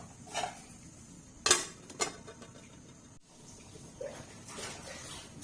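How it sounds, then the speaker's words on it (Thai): A lid set onto a metal cooking pot of fish tom yum coming to a boil, giving two sharp clattering knocks close by, with faint kitchen clinks before and after. "ปิดฝาไว้ก่อน"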